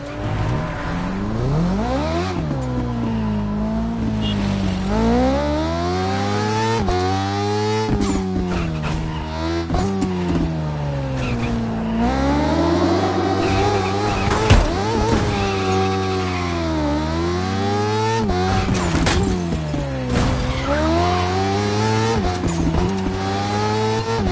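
Race cars scream through the night streets of Honolulu in The Crew Motorfest, engines revving up and down in long sweeping pitch climbs and drops through gear changes, with tire squeal and brief skids, loud and close throughout.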